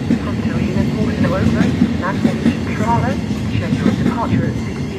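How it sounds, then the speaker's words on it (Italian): A train pulling in to platform 15 at Roma Tiburtina station, a loud continuous rumble with squealing wheel and brake tones sliding up and down, while a public-address announcement plays over it. "a Napoli Centrale nelle ore 16:12 è in arrivo al binario 15"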